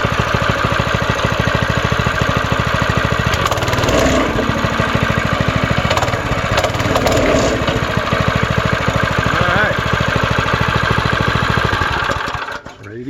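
A Power Horse 7 hp plate compactor's small engine runs steadily after starting, a loud, even, throbbing idle with a rapid pulsing rhythm that holds for the whole stretch before dipping at the end.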